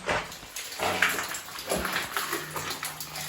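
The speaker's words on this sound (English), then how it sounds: "A lot of water dripping off this shit though" Water drips and splashes inside an old mine, irregular close plinks and splatters over a dim background.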